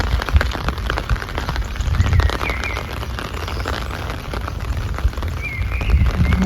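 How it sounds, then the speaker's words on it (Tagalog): A heavy downpour falls steadily, making a dense, continuous hiss of rain on surfaces with no letup. "Hindi talaga tumigil ang ulan. Grabe ang ulan."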